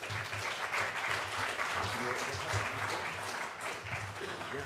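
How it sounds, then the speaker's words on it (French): An audience at a talk on the city applauds steadily, a dense, even wash of clapping from many hands throughout, with a faint voice under it. "On peut les applaudir."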